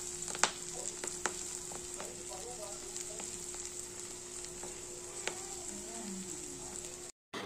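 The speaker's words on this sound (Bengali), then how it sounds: "গোটা মাছের ডিমটাকে পুরোটাকে আমি একসাথে ফ্রাই করছি" A whole fish roe fries in a pan with a steady close sizzle, broken by a few sharp pops and spatters, before a brief cut to silence near the end.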